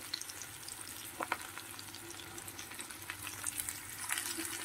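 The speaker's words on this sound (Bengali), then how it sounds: "আলু, গাজর, বিনস, কাঁচা লঙ্কা দিয়ে প্রথমে সবজিগুলোকে কিন্তু খুব ভালোভাবে একদম সেদ্ধ মতো করে ভাজা ভাজা করে নিতে হবে" Potato, carrot, beans and green chili fry in a pan with a steady, fairly quiet sizzle, broken by a few clinks and stirring scrapes.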